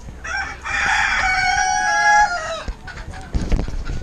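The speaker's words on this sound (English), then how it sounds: "the chicken area is a new place for me." At a meat market in Banjul, The Gambia, a rooster crows loudly and close, one long drawn-out call over clucking chickens. Scattered market clatter and movement follow once the crow ends.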